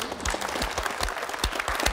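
Audience applause in a comedy show setting, honoring people from Gothenburg: dense steady clapping from a crowd, sustained and fairly close throughout the short burst.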